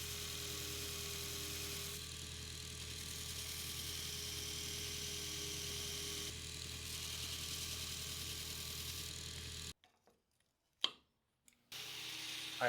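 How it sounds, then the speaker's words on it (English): Belt grinder running steadily while shaping a knife handle profile from an old file, a loud continuous machine whine and hum for about ten seconds, then cutting off into near silence with a few brief knocks. "take it over to the belt grinder and grind it as close to the profile as I can get"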